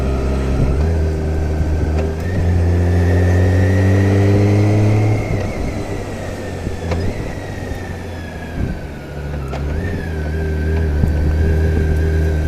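Motorcycle engine running steadily, its tone dropping and rising as gears change without the clutch, with several abrupt shifts in pitch across a continuous, fairly loud drone.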